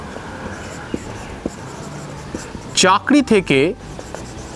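Chalk or marker writing on a board during an English grammar lesson gives faint, sparse taps and scratches, with a brief burst of speech partway through.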